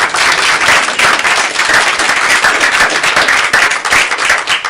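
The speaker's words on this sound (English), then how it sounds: "So a little round of applause for our girls soccer team." Loud, dense applause fills a school board meeting room as the girls' soccer team is recognized, a steady wash of many hands clapping together without a break.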